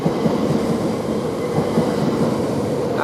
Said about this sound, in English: I think that was a passing train, I do believe, from Lovers Walk to Stuart's Lane.